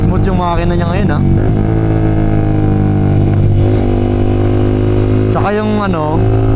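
Yamaha R15 V3 motorcycle with a carbon muffler, engine idling loud and close with sharp revving bursts at the start and again near the end, while someone speaks over it.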